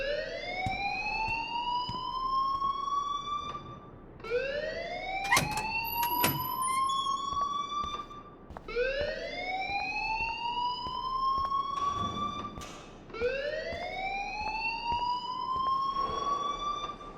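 A school fire alarm in the game Life is Strange rings as a repeating rising electronic whoop, four long sweeps spaced about four seconds apart, loud and steady with a few sharp clicks between cycles.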